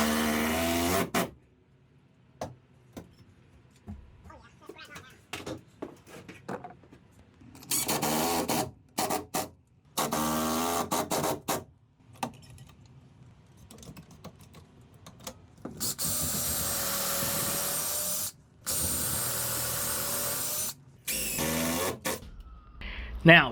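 Two screws driven into a wooden loft beam with a power drill: several loud, close whirring bursts of varying length, separated by silences and handling clatter, with a person talking in between.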